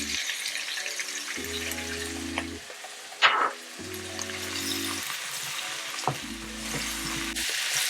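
Vegetables stir-frying in a pan with soy sauce give a steady broadband sizzle throughout, with brief stirring clatter and a sharper burst near the middle, while low tonal hum blocks come and go underneath.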